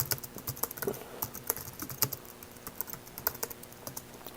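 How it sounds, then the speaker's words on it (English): Close, crisp keystrokes on a computer keyboard, a quick irregular run of distinct clicks and taps with brief pauses between bursts. "let me just type in an airport."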